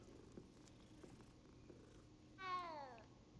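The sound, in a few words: cat purring when petted in video game Hogwarts Legacy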